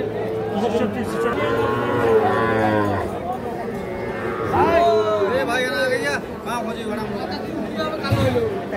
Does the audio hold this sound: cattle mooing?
yes